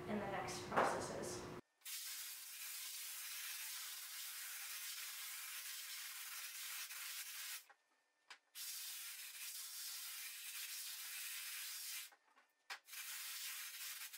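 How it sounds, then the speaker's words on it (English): Simple Green cleaner sprayed onto a screen printing screen, a steady close hiss running in long bursts with brief pauses between them, after a short opening of other noise. "I still spray it for some extra time to really make sure that that simple green gets pushed to the screen"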